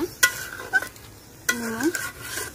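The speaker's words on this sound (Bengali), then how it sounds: "মুগ ডাল দিয়ে দিচ্ছি, এখন মাংসের সাথে ভালোভাবে মিশাইয়া" Moong dal and chicken pieces being stirred together in a pan, with a few sharp spatula scrapes and a soft sizzle in between, close and fairly quiet, with no talking.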